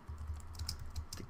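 Keystrokes on a computer keyboard while a code comment is typed in an Android development project, a quick run of soft, close clicks in steady rhythm with no voice.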